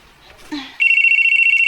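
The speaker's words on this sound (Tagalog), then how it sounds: "Ang cellphone ni Dandan nagsigikring." A cellphone rings with a loud, steady electronic warble that starts abruptly after a brief rustle and carries on unbroken to the end, close by with no talk over it.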